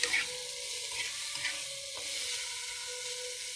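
Eggplant fries in a pot for a curry, a steady close sizzle with a few scraping stirs near the start.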